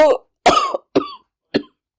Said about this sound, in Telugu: దగ్గు తెరలు తెరలుగా వచ్చింది